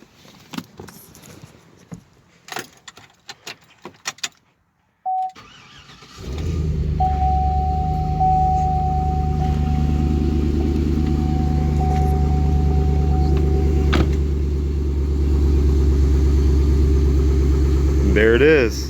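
A 2005 GMC Envoy Denali with the 5.3 engine cranks briefly, catches, and settles into a steady, loud, even idle with a faint whine, after some clicks and handling noises at the start.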